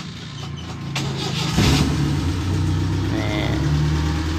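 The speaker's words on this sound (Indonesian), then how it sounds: "Ini suara mesinnya bos" A 2001 Mitsubishi T-120 SS, a used former minibus, starts up and runs close by. A short cranking gives way to a steady, rough mid-pitched idle with slight revving, and no talking over it.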